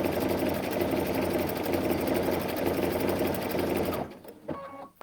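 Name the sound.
Baby Lock Anthem sewing machine stitching a ladder stitch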